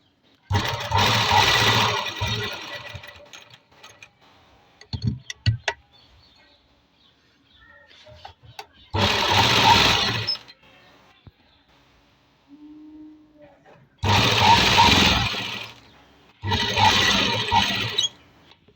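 Sewing machine stitching a neck onto a kurti, loud close whirring bursts of a few seconds each, separated by pauses with faint handling noise and no talking.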